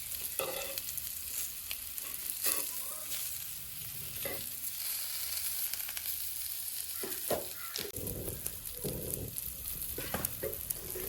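Fish frying in a little oil in a pan, a steady close sizzle with occasional sharper crackles and scraping bursts as pieces are moved.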